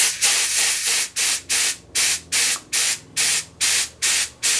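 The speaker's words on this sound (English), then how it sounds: "I'm going to go ahead and purge a little bit of the CO2 out of here" Rhythmic bursts of CO2 hissing from a pressurized keg of pineapple cider, about ten short sprays in steady succession, loud and close, with brief quiet gaps between each release.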